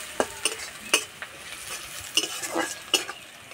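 Onion frying in oil with dried red chillies, stirred with a metal spoon, several sharp clinks and scrapes over a light steady sizzle, close by and clear with no voices.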